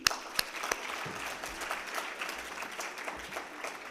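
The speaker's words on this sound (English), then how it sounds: "she deserves the biggest round of applause" Conference audience members applaud as a founder and CEO is welcomed to the stage at a business forum, a moderate, even round of clapping with a few sharper claps near the start, fading at the end.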